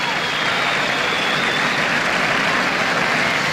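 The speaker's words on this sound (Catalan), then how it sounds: "Aplaudiments per l'Àliga que escoltem ara mateix en directe." An audience at La Patum de Berga applauds the Àliga with loud, sustained, dense clapping that stays even throughout.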